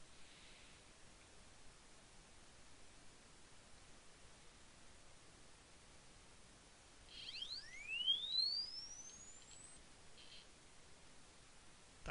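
An Arduino tone output sweeps quickly with a 1 ms step delay, giving a faint rising electronic chirp of a few seconds over a hiss of background noise in the middle of an otherwise quiet stretch.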